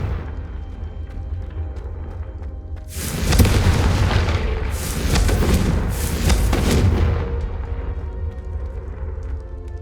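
Confringo spell blasts in the video game Hogwarts Legacy go off as a run of heavy booming explosions, several overlapping bursts rolling over a few seconds above a low, steady background rumble.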